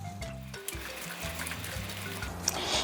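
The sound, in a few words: water poured into kimchi pancake batter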